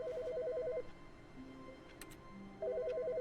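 A phone in The Stanley Parable rings in a quiet office space, its electronic trill sounding twice with a pause between the rings and a faint hum running under it.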